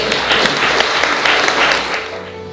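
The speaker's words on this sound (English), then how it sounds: "Give yourselves a round of applause." Guests at a 60-year diamond wedding anniversary celebration give a short, loud round of applause, dense clapping that tapers off at the end.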